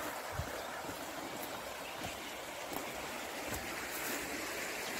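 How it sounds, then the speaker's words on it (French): Steady rushing water flows continuously, a dense broadband wash of a river with no voices and faint occasional splashes. "Tu vois, c'est la rivière."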